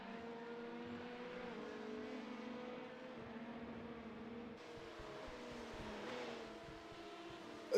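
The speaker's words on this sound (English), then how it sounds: "This track, Pete, while we're just watching this LMP qualifying, this track lends itself to overtaking" LMP prototype race cars lap in qualifying at Interlagos in a sim racing game, giving a steady, faint engine drone with a sustained tonal whine. The pitch shifts once partway through.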